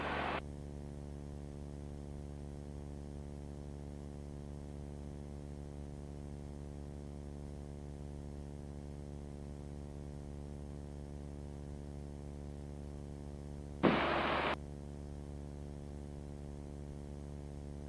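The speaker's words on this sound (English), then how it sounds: "Now we're going to run the engine up to 1700 RPM." From inside the cockpit, a Beechcraft Bonanza's engine drones as a steady, even hum during a run-up to 1700 RPM, with brief bursts of hiss near the start and again later.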